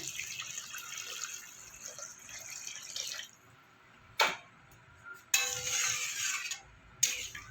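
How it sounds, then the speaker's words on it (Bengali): Water is poured into a pabda fish curry with black cumin, in a pan of freshly fried spices, as two bright splashing pours of a few seconds each, with short drips and quiet gaps between them. "এবার আমি দিয়ে দেবো জল মাছটা ঝোল হবে তাই একটু জল দেবো"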